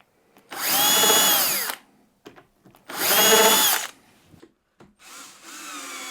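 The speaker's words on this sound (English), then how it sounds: "the first job is to get some holes drilled with a self-centering drill bit" Two long bursts of a power drill with a self-centering bit whining through wood, each about a second and a half, separated by brief clicks and a shorter final run, while building an under-sink cabinet.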